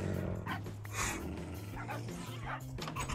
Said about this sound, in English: I think the dogs want to bite you.